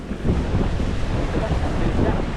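Strong wind buffets the microphone in a continuous, heavy rumble with no pauses, drowning out any other sound.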